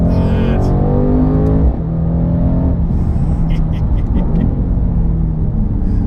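A 2019 Mercedes-AMG C63 S revs loudly up through the gears from up close, with a rising engine roar that drops at a shift and climbs again; a voice talks over it.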